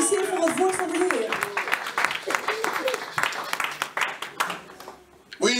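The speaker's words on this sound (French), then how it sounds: "applaudissez la parole de Dieu" Congregation applauding during a French and Dutch church sermon, steady dense clapping throughout with a preacher's voice speaking over it.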